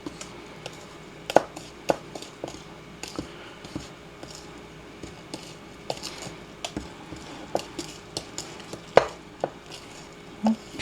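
Thick pumpkin bread batter being stirred together in a bowl, with irregular light clinks and scrapes from the utensil against the bowl, close up and fairly quiet, no talking.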